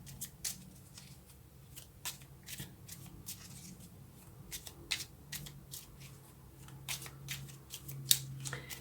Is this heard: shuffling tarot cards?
yes